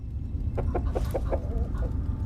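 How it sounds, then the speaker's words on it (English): A chicken in Fallout The Frontier gives a quick run of close, distinct clucks, about six short pulses in a row followed by a softer trailing cluck over a low background hum. "Hell yeah, chicken noises."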